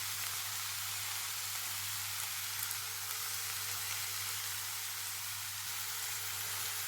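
Shredded cabbage and capsicum fry in a pan for chicken spring roll filling, giving a steady, even sizzle that holds throughout with no pauses or voices.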